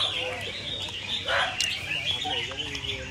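Competition songbird singing at a bird-fighting contest, with bright chirping phrases rising over a noisy crowd backdrop, fairly close but partly buried under murmuring voices.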